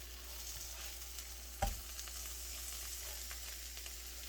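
Chicken seasoned with oregano fries in a pan, giving a steady close sizzle throughout with one brief sharp clatter or pop near the middle, no talking.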